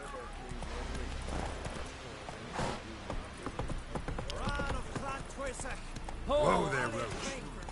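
Roach the horse's hooves clip-clop steadily at a gallop in The Witcher 3, with a brief whinny near the end and someone talking over the hoofbeats.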